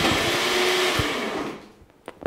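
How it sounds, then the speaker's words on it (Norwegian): A blender running with food inside whirs loudly and steadily for about a second and a half, then winds down and stops, with no talking. "At bare jeg putter alt man vil i en blender?"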